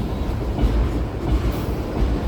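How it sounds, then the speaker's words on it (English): A fast train hauling past at close range, a loud continuous rumble of wheels and cars with steady clatter throughout, no voices. "That train is going fast,"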